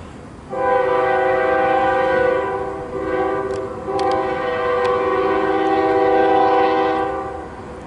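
A Canadian National freight train sounds its horn for a crossing at Alfred Street in Wyandotte, Michigan: a loud, sustained multi-tone chord lasting about seven seconds, with brief dips between blasts and a faint rumble of wheels beneath.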